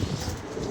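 Pigeons cooing in a rooftop loft, a low soft murmur of coos running steadily through a short moment, close by, with no voices present.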